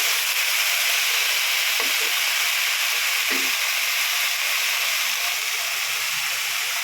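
Kulekhara greens cook with salt in a pan, giving a steady close sizzling hiss with a few brief clinks and scrapes of stirring early on and no clear talking.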